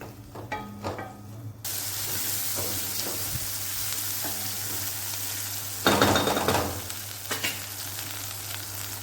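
Green onion mixture sautéing in a pan sizzles and fries steadily, with a brief quieter start, then a continuous hiss swelling louder for a moment near the end, with light stirring scrapes.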